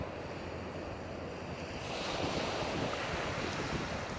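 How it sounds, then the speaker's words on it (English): Surf washing onto a sandy beach at Flic en Flac, Mauritius, a steady broadband roar of breaking waves with wind noise on the microphone, swelling louder midway and holding for the rest. "Beautiful sandy beach."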